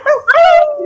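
A person howls at the full moon during an online group hangout, a single loud, close, rising and wavering vocal howl imitating a dog or wolf, under a second long.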